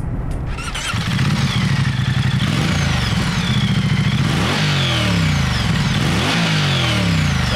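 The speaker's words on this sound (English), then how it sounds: "that engine, 115 horsepower and 105 newton meters of torque" A 2023 Moto Guzzi V100 Mandello with its 115-horsepower V-twin being ridden on New Forest roads, the engine droning loud and close, then revving up through gears with rising pitch sweeps and wind rush.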